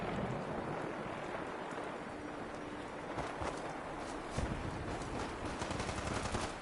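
Rapid bursts of gunfire from the Fallout 4 video game crackle through a dense, noisy game soundscape, with sharper shots landing toward the end.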